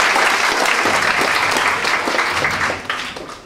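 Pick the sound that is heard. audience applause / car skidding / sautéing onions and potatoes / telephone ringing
audience applause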